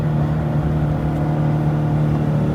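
A 2025 Jeep Wrangler engine held at a steady high rev against a limiter capped at 4,500 rpm, a loud, continuous droning hum with no rise or drop.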